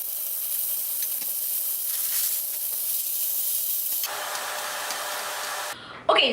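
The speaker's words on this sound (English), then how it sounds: "Wanna hear that sound? Wanna hear the sizzle?" Steak browning in a smoking-hot pan gives off a steady, loud sizzle and hiss that runs without a break. It swells briefly partway through and ends in a sharp clatter.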